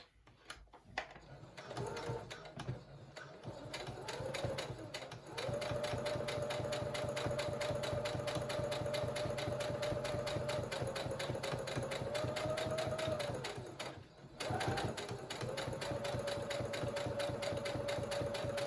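A sewing machine runs steadily stitching around the edge of a cloth face mask with elastic, a continuous close mechanical whir with a brief pause partway through before it resumes.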